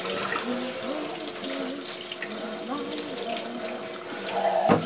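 Tap water running steadily into a sink while dishes are washed, a constant close hiss and splash with faint clinks, slightly louder toward the end.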